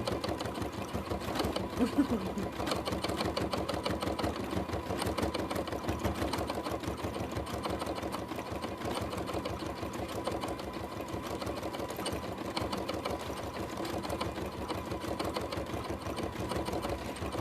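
Sewing machine stitching a horse fabric collage, running in short bursts of a few stitches at a time with a steady fine rhythmic chatter throughout, moderately close and fairly quiet.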